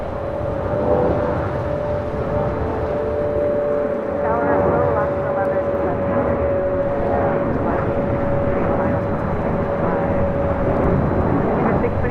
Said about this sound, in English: This is Delta Airlines 1115 taking off to New Orleans on the 737-800.